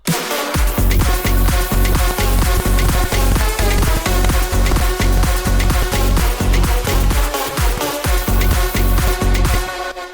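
Electronic drum loop thumps with a steady, punchy kick pattern, layered with extra percussion hits and dense electronic music, loud and continuous.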